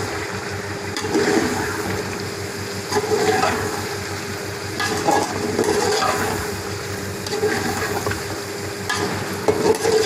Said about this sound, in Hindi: 10 मिनट के लिए जो है हम इसको अच्छी तरह भूनेंगे।